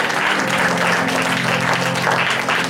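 A church congregation in Doha claps together, a loud, continuous burst of applause lasting a few seconds with a faint voice underneath.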